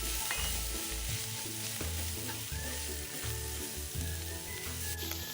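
Cabbage dumpling filling with salt and sesame oil sizzles and is stirred in a hot wok, a steady frying hiss broken by scraping and clinking from the spatula, with no talking.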